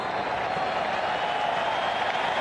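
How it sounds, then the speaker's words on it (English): A stadium crowd at a Juventus vs Barcelona International Champions Cup match applauds in a broad, steady wash of clapping and cheering that fills the whole stretch. "everybody here is standing to applaud because it has been utterly remarkable"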